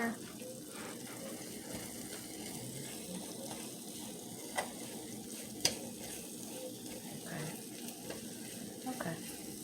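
Chicken and rice frying in a pan and being stirred, a quiet, steady sizzle with occasional soft clinks and scrapes of a utensil; no talk.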